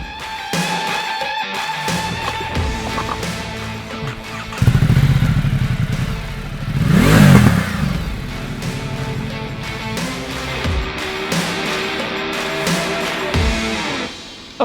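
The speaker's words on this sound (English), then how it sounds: "This, ladies and gentlemen, is the Ducati Multistrada" A Ducati Multistrada 1260S motorcycle engine runs close by with a loud, continuous mechanical drone. It swells in a couple of brief surges and carries some clattering and thumps, with no voices.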